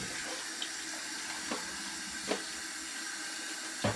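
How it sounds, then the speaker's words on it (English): Warm water runs steadily from a tap into the dirty tank of a Hoover carpet cleaner, a continuous close hiss and splash with a few small knocks and sloshes as the tank is rinsed. "So we're gonna rinse that out with some warm water."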